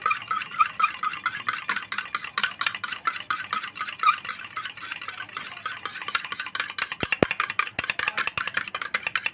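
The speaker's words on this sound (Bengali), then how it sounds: "এটা হুস্কার দিয়ে এটাকে ভালো করে একটু ফেটিয়ে নেব" Peanut milk curd whisked by hand with a whisk, a rapid rhythmic clicking and swishing against the bowl, close and even, quickening into sharper ticks near the end.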